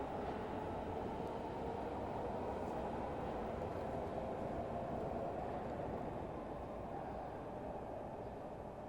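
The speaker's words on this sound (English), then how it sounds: "I would love to show you this railway station, Venkat." Steady, dense rumble of trains and station ambience at Berlin railway station, a continuous loud wash of rolling rail noise and echoing hall sound with no pauses or voices.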